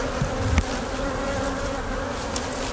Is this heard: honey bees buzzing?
yes